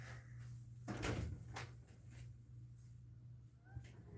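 A house cat at feeding time gives a faint meow amid quiet knocks and a cupboard or door opening and closing in a room, all low in level against a steady hum.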